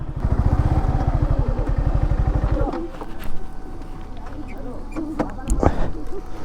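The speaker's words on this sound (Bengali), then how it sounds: "তো এখানে বাইকটাকে পার্কিং করে দিই।" A motorcycle is parked at a hilltop viewpoint in Sikkim, its engine idling with a rapid, steady putter for nearly three seconds and then cutting off, followed by clatter, outdoor ambience and someone talking.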